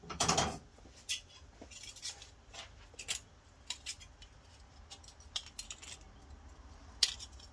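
Quiet, scattered snips and clicks with irregular gaps, like scissors cutting material up close; no one speaks.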